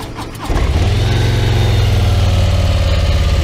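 A Harley Davidson Low Rider ST motorcycle engine starts up and settles into a loud, steady, deep rumbling idle close to the listener.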